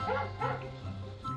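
A dog yips and barks in short repeated bursts, close and fairly loud, with whimpering tones between the barks.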